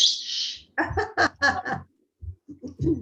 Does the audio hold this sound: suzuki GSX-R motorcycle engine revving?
no